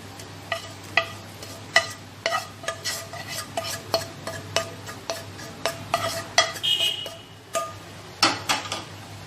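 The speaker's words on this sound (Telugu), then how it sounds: "ఆ సగ్గుబియ్యం పాయసంలో మిక్స్ చేసేసుకుందాము. ఇప్పుడు వేయించి పెట్టుకున్న ఈ డ్రై ఫ్రూట్స్ ఇందులో వేసేద్దాము." Spoon stirring fried dry fruits into hot sago payasam in a pan: a steady series of close scraping, clinking strokes against the pot at an uneven rhythm, with no voices over it.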